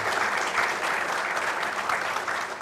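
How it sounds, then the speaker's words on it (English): Audience applause closing a session at a memorial annual event, a thick, continuous patter of many people clapping together, steady and fairly loud from start to finish. "a round of applause for the speakers"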